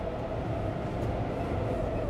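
A train rolls past underneath in the Cities Skylines 2 video game, a steady low rumble that holds at an even level throughout.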